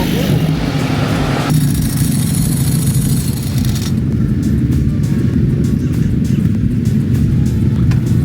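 A Ducati Multistrada V4 RS motorcycle engine drones loud and steady while riding at high RPM, with heavy wind rumble throughout.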